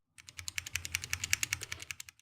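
Rapid typing on a mechanical keyboard with tactile switches, a dense run of about twenty crisp clicky keystrokes in quick, steady rhythm, close and alone.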